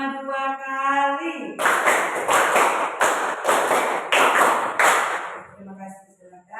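A classroom group claps a rhythmic pattern of five quick claps, done twice in a row, loud and close, with voices before and after.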